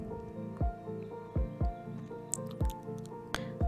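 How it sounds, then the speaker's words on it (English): Thick besan chutney, or pitla, is stirred in a pan after the gas is switched off, giving soft, wet squelching plops roughly every second over a low background hum, close and quiet, with no talking. "Even after closing the gas, you continue to stir so that there is no layer formed on top"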